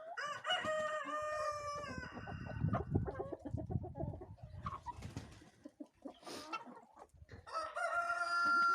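A rooster crows loudly at the start and end, with hens clucking and murmuring close by in between.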